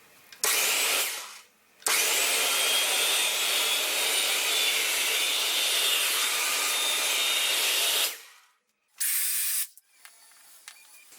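A Milwaukee circular saw, just repaired, whirs steadily at close range for several seconds, then cuts off; a brief second burst follows after a pause.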